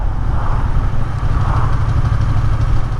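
A Triumph motorcycle engine pulls in fourth gear at low speed, giving a steady, close, low-pitched drone with a slight judder as the throttle opens.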